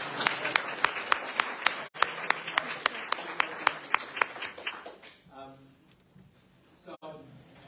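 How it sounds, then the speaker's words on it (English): A small room audience at a candidates' meeting claps, with sharp regularly spaced claps standing out over a soft patter before it thins and fades; speech runs underneath. "let's give April a round of applause"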